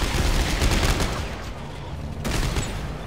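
A new weapon firing in Dead Space 3, dense loud bursts of gunfire in two stretches separated by a short pause, up close and harsh.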